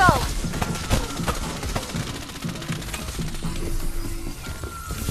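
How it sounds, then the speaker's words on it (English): Video game gunfire crackling in rapid, irregular bursts, with mechanical clicks and clatter layered over a background soundtrack; moderately loud and fairly close. "Taking fire!"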